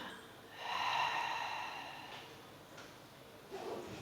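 A single deep, breathy exhale through the nose and mouth during a Pilates breathing exercise, close and moderately loud, fading into a quieter sigh-like breath.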